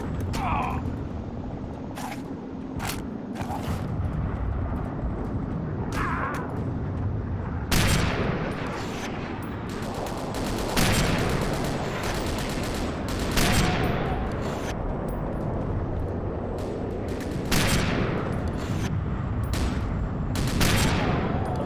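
Gunfire in the shooter game World War Zero (Iron Storm): repeated loud bursts and sharp shots across the clip, with rattling automatic fire and broad cracks over a steady mechanical background.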